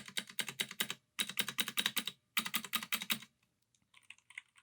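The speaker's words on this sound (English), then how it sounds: "on the full presses, you get the nice clicky sound that you want from blue switches" Spacebar on an E-YOOSO Z686 60% mechanical keyboard with blue switches, pressed in three quick bursts of loud, crisp clicks, followed by a few fainter, lighter taps.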